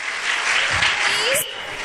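Loud applause from an audience at a school annual prize distribution, a steady wash of clapping filling the short stretch with a voice mixed in.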